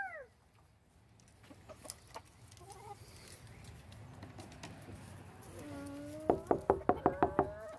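Chickens clucking in a quiet coop, soft scattered calls at first, then a run of six or seven loud, evenly spaced clucks near the end.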